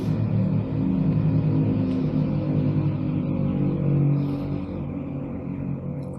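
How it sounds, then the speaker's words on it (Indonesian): A motorcycle passes along the road beside a house, a steady rumbling engine that swells and then fades as it goes by, heard from indoors. "ini motor lewat dulu teman-teman"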